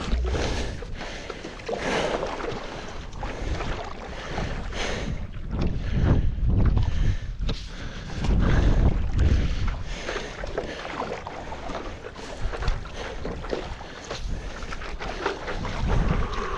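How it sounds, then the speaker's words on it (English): Strong onshore wind buffets the microphone while paddle boarding near shelf ice at sundown, a loud continuous rumbling roar with gusty surges and faint water sloshing, no talking. "There's a pretty strong onshore wind"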